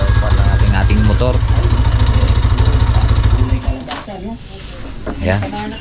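A motorcycle engine idles loud and close with a rapid, even chugging pulse, then cuts out partway through, leaving people talking nearby.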